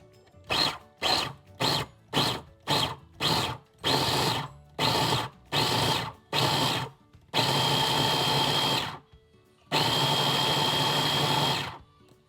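Blender chopping cauliflower, starting with a quick series of short pulses and moving into two longer continuous whirring runs, loud and close with no talking.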